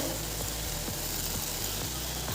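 Egg curry with onion, tomato and green chilli cooks in a pan, giving a quiet, continuous sizzle with a low hum beneath and no break.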